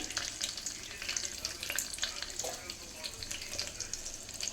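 Crackling, spitting sizzle of tempering spices and a dried red chilli frying in two spoons of hot oil for tomato rasam, dense and continuous with sharp pops throughout.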